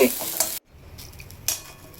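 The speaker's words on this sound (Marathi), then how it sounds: "लहाना गॅसवर मस्त खरपूस भुजावू द्यायचे ते दाणे" Wet urad beans roasting in a pan over a low gas flame make a close sizzle with scraping stirs, broken by a brief silent gap before the frying hiss returns, louder toward the end.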